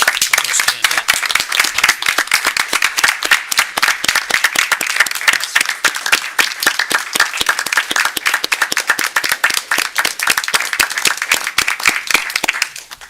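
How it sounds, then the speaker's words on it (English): A board of education meeting audience applauds a donor, many hands clapping in a sparse, uneven patter that stays fairly steady for over ten seconds, individual claps distinct, and fading slightly near the end. "If we could just give her a round of applause"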